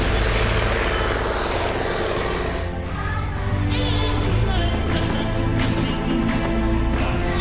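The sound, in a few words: biplane propeller aircraft flying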